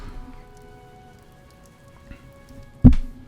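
Steady rain falls in the video game Fire Emblem: Three Houses, a soft continuous patter with a single louder splash near the end, with no voices over it.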